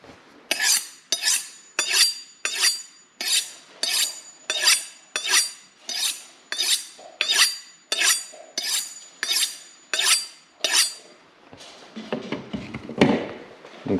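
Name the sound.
knife and cutlery being handled while preparing meat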